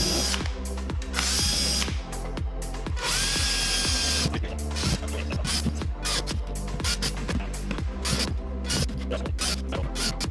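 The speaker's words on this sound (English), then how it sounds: "You can then drill all the way in." A power drill whirs and grinds into wood in short repeated bursts, with sharp ratcheting clicks and hissing bursts in between, close and loud.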